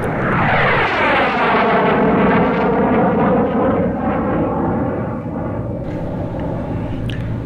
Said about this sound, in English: the world's most capable air superiority fighter jet, F-22 Raptor